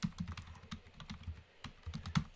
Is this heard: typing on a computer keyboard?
yes